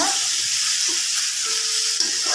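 Large green chillies frying in hot oil give a steady, loud broadband sizzle with no pauses, a faint tone running beneath it.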